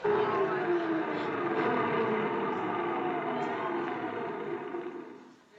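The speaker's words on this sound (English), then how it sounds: "It's the unplugging of a refrigerator." A household refrigerator's motor hums steadily, a low droning tone with a slowly sliding pitch, then winds down and fades away near the end after it is unplugged.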